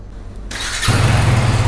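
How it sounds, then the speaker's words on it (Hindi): A 2024 KTM Duke 250 motorcycle is started up close: a brief starter whir, then the single-cylinder engine catches and settles into a loud, throbbing idle. "चेक करके देखते हैं इसकी स्टार्टिंग"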